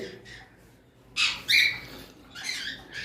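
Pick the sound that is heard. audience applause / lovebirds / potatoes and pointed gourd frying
lovebirds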